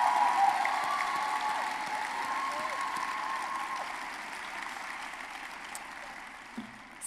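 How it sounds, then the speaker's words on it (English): Applause from a medical students' convention audience at a closing ceremony in Sydney, a broad wash of clapping that starts fairly strong and slowly fades, with a faint voice underneath. "Big round of applause to Jack."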